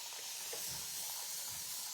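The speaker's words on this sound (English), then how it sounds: "And then I'm going to spray it." A spray bottle mists a glass cutting board mat, giving a steady, fairly quiet hiss that lasts the whole moment without a break.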